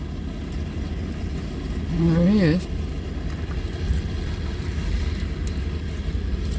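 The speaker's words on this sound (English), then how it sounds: "Truck noises are making me nervous." An older truck's engine drones steadily from inside the cab while driving to town, a low continuous rumble with slight rises, under brief speech.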